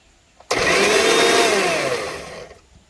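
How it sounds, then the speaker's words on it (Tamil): A kitchen blender whirring mayonnaise at home switches on abruptly and runs loud and steady for about two seconds, its motor pitch shifting slightly as the mixture thickens, then winds down and stops. "அடுத்த பிளெண்டரை ஆஃப் பண்ணணும்."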